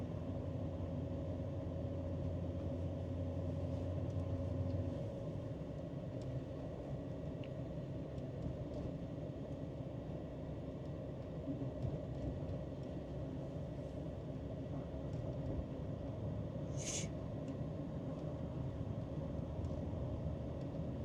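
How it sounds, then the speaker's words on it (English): A 1971 Lincoln Continental Mark III with a 460 V8 and C6 transmission idles steadily on a park road, a low continuous engine rumble with a faint brief squeak partway through and no talking. "Car runs great, starts right up."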